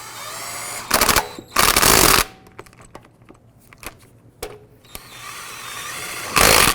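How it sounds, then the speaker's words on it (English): Pneumatic impact wrench snugging lug nuts on a 2004-2009 Dodge Durango front wheel, several loud close ratcheting bursts separated by quieter gaps with small clanks. "Then we're going to go ahead and snug up the lug nuts."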